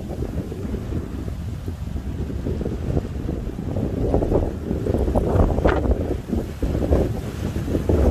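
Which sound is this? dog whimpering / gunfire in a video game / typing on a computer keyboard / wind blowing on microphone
wind blowing on microphone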